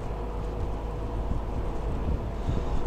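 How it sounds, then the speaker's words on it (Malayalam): Strong wind roars steadily across the microphone on a river boat cruise near a cargo ship, a constant, dense rush with low rumbling underneath and no voices. "ഇവിടെ നല്ല കാറ്റുണ്ട്."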